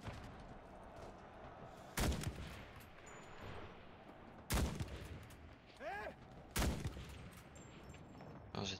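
Sniper rifle shots in the World War II shooter Enlisted ring out three times, each a sharp, loud crack with a rolling tail, spaced a couple of seconds apart over quieter battlefield ambience.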